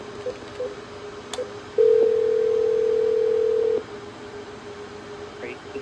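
Dial tone and dialing on a Cisco 7965 IP phone: a few short faint beeps, then a steady two-second tone that cuts off, followed by a quieter stretch with a faint blip.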